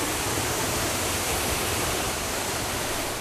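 A waterfall pours down in a steady, loud, dense roar of rushing water that holds unbroken and close throughout, with no voices.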